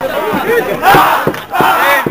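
Vasco football fans in a packed stadium roar a chant together, a loud rhythmic crowd singing with surging shouted syllables close by.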